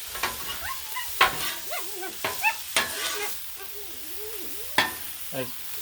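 Collard greens and mushrooms cook on a Blackstone griddle outdoors on a sunny mountain day, a low sizzle punctuated by sharp spatula scrapes and clacks, with squeaky whistling tones rising and falling between them.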